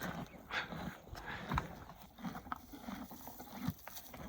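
Horses at dawn on Mount Teide, Tenerife, with faint, irregular hoof clops and shuffling that stay quiet and fairly distant.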